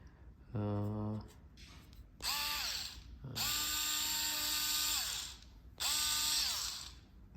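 Xiaomi Mijia cordless rechargeable screwdriver running in short bursts, three motor whines rising and falling with a ratcheting texture, close and clear, with brief quiet gaps between runs.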